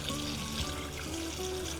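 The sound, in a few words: cooked pasta drained and rinsed under cold tap water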